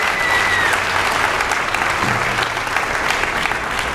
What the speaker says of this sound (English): Let's give the Hahns a round of applause.